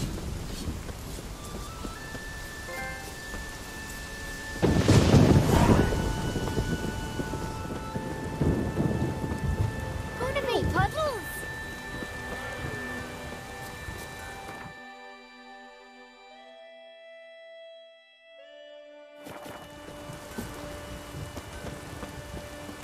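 Steady rain pours over a dark outdoor scene in The Witcher 3 video game, with a loud rumbling thunder crack partway through, then a stretch of near silence before the rainfall resumes.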